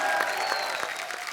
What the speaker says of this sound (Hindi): तो जोरदार तालियां बजाएं